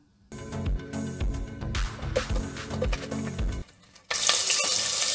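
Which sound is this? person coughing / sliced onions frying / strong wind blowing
sliced onions frying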